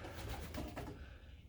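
Young pigeons in an aviary give soft, low cooing murmurs over about a second, close by, then the sound fades to quiet background.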